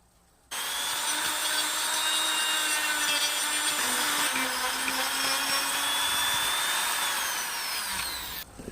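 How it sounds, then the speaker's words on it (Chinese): A power sanding tool grinds against a cut on a discarded elm tree's main limb, a steady continuous abrasive whir running almost the whole clip after starting abruptly, with slight pitch shifts as pressure changes; no talking. "对成活的部分要间断打磨，磨的时间不能太长"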